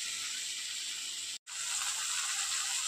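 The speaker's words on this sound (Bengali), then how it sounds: "তো চলুন পেঁয়াজ টমেটোটা খুব ভালো করে ভেজে নিই।" Onion and tomato fry in a pan for a bhola fish curry, making a steady, even high hiss and sizzle that cuts out for a moment and then continues at the same level, with no voices.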